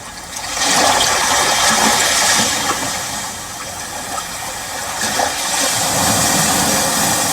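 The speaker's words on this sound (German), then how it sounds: "Da kommt Meeresrauschen" Sea surf nature sounds play from a car's infotainment system, a steady broadband rushing wash with gentle swells, loud and continuous throughout with no talking.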